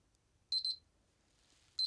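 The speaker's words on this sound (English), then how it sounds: "Well, it must have been a minute ago because that's the detonator." A detonator timer gives sharp electronic beeps: a quick pair of high tones, a short pause, then another beep, loud and close in an otherwise quiet room.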